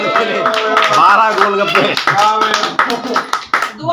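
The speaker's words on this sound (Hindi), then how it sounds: "एक बार ताली।" Scattered clapping from family members after a golgappa eating challenge at an Eid gathering, brief uneven claps mixed with lively talking and laughter close by.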